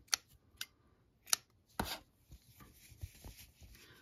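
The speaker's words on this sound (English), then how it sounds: "Now I'm gonna snip it." Scissors snip crochet yarn while finishing a granny square, giving a few short, crisp cuts close up, followed by soft rustling handling noise.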